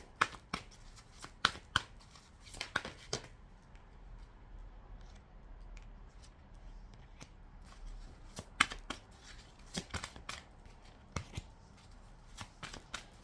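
Tarot cards are shuffled and laid out on a table in a quiet room: bursts of sharp riffling snaps and flicks come in clusters, with soft slides and pauses between them.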